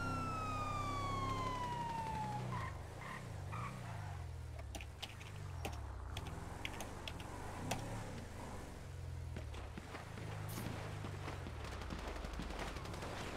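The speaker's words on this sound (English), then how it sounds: "He's shooting! Shots fire!" Video game roleplay gunfire at a gas station: a burst of rapid shots cuts through a wailing police siren and engine drone, with crackling pops scattered throughout the scene.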